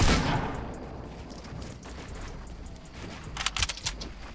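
Gunfire in a Fortnite Battle Royale match: a loud opening burst gives way to a rattle of shots, then a quick cluster of sharp reports near the end.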